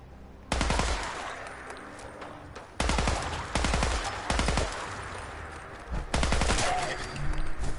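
Explosive bursts in Fallout 4 near a raider-held building: several sharp, loud blasts come in separated clusters, each with rapid crackling repeats, against a quieter ambient background.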